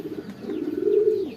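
Pigeons at the loft give a low, throaty coo that swells and holds for about a second, close and clear.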